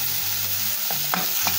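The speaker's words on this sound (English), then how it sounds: "spoon in the meat, the minced beef, and then keep turning it" Minced beef for samosa filling frying in a pan while a spoon turns it, producing a steady hissing sizzle with a few scraping stir strokes near the end.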